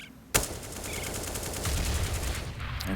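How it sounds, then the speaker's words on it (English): Rapid gunfire from Counter-Strike on the Overpass map in a DreamHack ASTRO Open Winter 2017 match, including Desert Eagle pistol shots: a sharp loud first crack followed by a dense, steady stream of shots and game noise throughout. "And now Zeus with his Deagle is teeing off shots."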